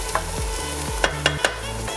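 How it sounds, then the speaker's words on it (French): Onions fry in a pan while being stirred, a steady sizzle broken by several sharp scraping clicks of the utensil against the pan, close and clear with no voices. "On pense bien de temps en temps à remuer les oignons qui sont en train de revenir dans la poêle."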